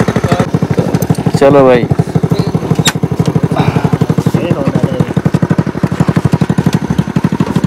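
A motorcycle engine putters steadily up close during a ride near Nagarparkar, its rapid, even firing pulses continuous throughout, with someone speaking briefly over it.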